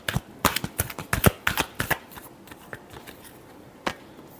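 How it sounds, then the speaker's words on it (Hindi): Tarot cards being shuffled by hand in a rapid run of crisp riffling bursts for about two seconds, followed by softer scattered flicks and one final snap near the end, close and clear with no talking. "Last shuffle."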